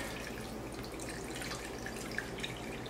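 Bouillon stock pours into a chicken dressing mixture, a soft steady liquid trickle with faint drips, quiet and close with no talking.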